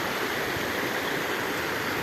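A small stream babbles gently in a natural setting near a pond, its soft, steady rush of flowing water continuous and moderately close with no voices.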